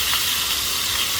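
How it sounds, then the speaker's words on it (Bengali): Ginger garlic paste with salt hitting a little hot oil in a pan, giving a loud, steady close sizzle and hiss with no talk. "সামান্য তেল দিয়ে একটু লবণ দিলাম, 1 চামচ আদা রসুন পেস্ট দিলাম।"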